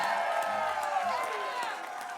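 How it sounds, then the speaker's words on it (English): An audience claps and cheers for performers on a stage at a birthday celebration, a continuous crowd roar with a voice or music rising over it. "big round of applause for everybody on this stage"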